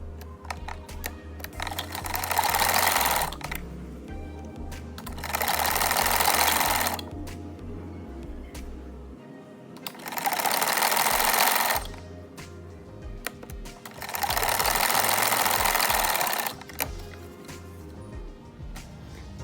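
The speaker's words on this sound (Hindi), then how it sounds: "छोटी साइड पे भी मैंने सिलाई लगा ली है नीचे से, और अब मैं इसकी जो लंबाई वाली साइड है उस तरफ लगाऊंगी" A sewing machine stitching the long side of a kurta runs in four separate bursts of rapid mechanical chatter, each lasting a couple of seconds, with quieter pauses between them and no talking.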